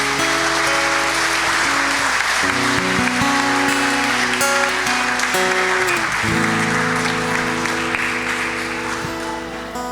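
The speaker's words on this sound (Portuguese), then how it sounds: "Aplauda o Senhor, pastor Zé." A church congregation applauds during a worship service, sustained dense clapping that carries steadily over held keyboard or organ chords, fading slightly at the end, with no speech over it.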